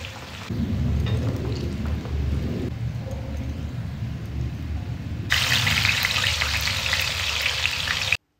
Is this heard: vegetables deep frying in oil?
yes